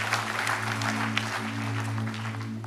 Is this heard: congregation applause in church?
yes